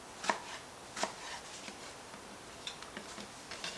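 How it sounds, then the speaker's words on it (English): A knife chopping tomatoes on a board, quiet and close, with two distinct cuts followed by a run of lighter, quicker taps. "now we're simply going to just chop up the tomatoes like so"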